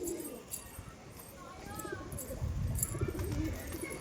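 Soft, low cooing of farm-raised pigeons close by, repeated a few times over faint background hiss.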